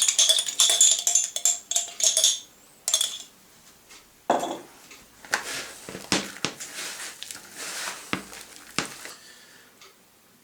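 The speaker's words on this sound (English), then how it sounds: "we're just going to scoop the whole of this jar into the sausage meat mix" A spoon mixes rowan jelly into sausage meat in a bowl for a Second World War recipe, giving close, irregular clinks and scrapes against the bowl with bursts of rattling and quieter squelchy stirring between.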